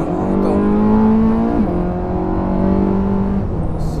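Porsche 918 Spyder hybrid supercar accelerating hard from low revs, a loud close engine note rising in pitch, shifting once, then climbing again.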